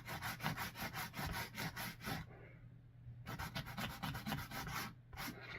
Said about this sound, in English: I have our little sanding sponge here. I'm going to take off a little bit of the paint.